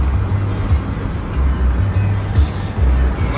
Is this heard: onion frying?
no